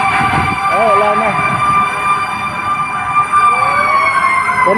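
Many fire truck sirens wail together at a large fire in Tondo, Manila, loud and continuous with rising and falling tones over heavy traffic rumble, crowd noise and voices.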